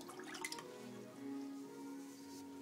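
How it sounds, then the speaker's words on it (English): Water runs and drips over a sharpening blade as it is rinsed off after work on a whetstone, a short, soft trickle and splash up close. "Rinse off the blade."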